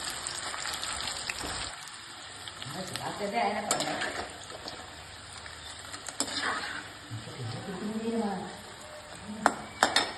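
Jackfruit pieces frying in oil with curry leaves in a pan, a steady hiss and crackle with scraping stirs of a utensil, while someone talks over the cooking throughout.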